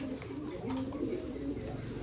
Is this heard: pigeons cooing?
yes